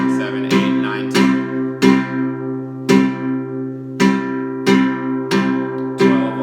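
Flamenco guitar strums a bulerías compás at a faster tempo, with sharp rasgueado accents striking in a steady repeating rhythm over ringing chords, close and clear.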